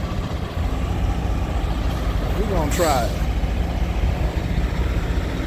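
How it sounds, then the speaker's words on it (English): A truck idles steadily nearby at a truck stop in Salome, Arizona, while a sharp hiss of air brakes bursts out partway through, with someone speaking over the engine. "Hear them brakes."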